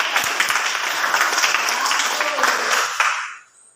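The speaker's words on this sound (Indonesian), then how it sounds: "tepuk tangan buat Serakia." Classroom group applause for a student, loud, dense clapping from many hands close by, with a few voices mixed in, then tapering off abruptly at the end.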